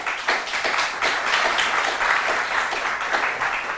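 Steady applause from a school audience greeting a quiz team at a Ghanaian senior high school quiz contest, dense and even clapping that holds at a constant loudness throughout.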